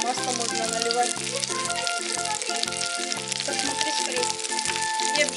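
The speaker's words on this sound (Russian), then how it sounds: "Вот так обжариваем с двух сторон на подсолнечном масле." Chicken liver and rice cutlets sizzle and crackle steadily in sunflower oil throughout, with a rhythmic musical pattern playing over it.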